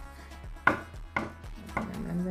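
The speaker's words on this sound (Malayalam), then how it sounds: "മുട്ട നമ്മൾ ചോപ്പ് ചെയ്ത് അതിനകത്തിടാൻ പോവാണ്" A chopper cuts through boiled egg in three sharp, evenly spaced chops, each a crisp thwack against the board with a short ringing tail, close and clear with no talking.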